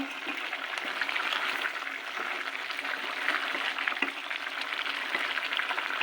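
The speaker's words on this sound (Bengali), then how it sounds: "এখানে কিন্তু আমি তরকারি কষে নিচ্ছি, দেখুন সুন্দরভাবে।" Curry for a rohu fish dish sautéing in a pan, a steady close sizzle and crackle with soft stirring scrapes running throughout, no voices.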